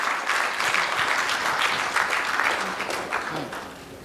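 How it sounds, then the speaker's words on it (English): A crowd applauds steadily at a Rotary Club installation ceremony for a new president and board, dense continuous clapping that holds for about four seconds and eases slightly at the end. "a big round of applause"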